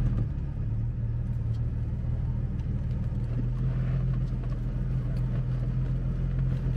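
A BMW E34 M5 engine idles steadily while the car reverses, a smooth, continuous low rumble heard from inside the cabin.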